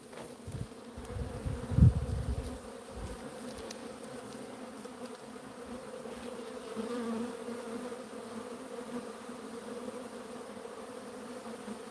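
Swarm of Africanized honey bees balling up in weeds, a dense steady buzz holding throughout, close and continuous, with a brief louder thump near the start.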